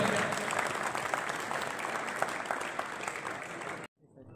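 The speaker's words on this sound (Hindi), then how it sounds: "आप लोगों की जोरदार तालियों में मोहम्मद सुफियान" An audience at a college prize distribution in Fateh Pur applauds a prize winner, with dense, sustained clapping that holds steady and then cuts off abruptly near the end, leaving quiet.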